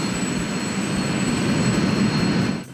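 A jet engine fitted to a Pigeon car in the BeamNG video game produces a loud, continuous roar with a thin high whine, cutting off abruptly at the end.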